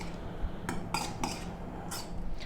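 Fresh tuna being mixed with thinly sliced green onion and light soy sauce, with a few close, distinct clinks and scrapes of a utensil against a bowl over a quiet background.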